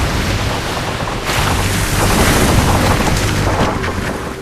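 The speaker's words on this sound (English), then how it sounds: "In icebreaking mode, it sails stern first or backwards." An Aker ARC 130 icebreaker ship sails stern first through icy water, heard as a loud, broad rush of wind, water and engine rumble close to the microphone, with no talking.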